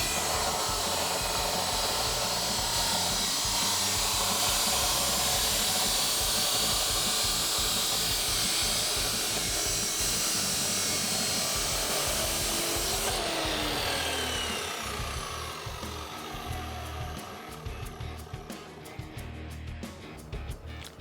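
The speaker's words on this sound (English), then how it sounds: "we're going to take this over to our chop saw, make our cut" A chop saw bites through a large 4-inch steel exhaust pipe for a 6.2L Super Duty truck, giving a loud, continuous abrasive grinding whine that holds steady, then tapers and thins out near the end as the cut finishes.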